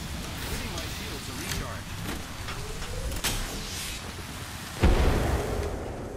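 A grenade goes off during an Apex Legends firefight, a sudden loud boom near the end of a busy stretch of game noise, with players talking over it.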